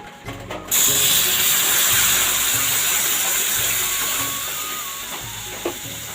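Boiled milk pours into hot fried semolina and ghee, setting off a sudden loud hiss after a brief clatter that stays steady and gradually softens, with faint clinks near the end and no talking.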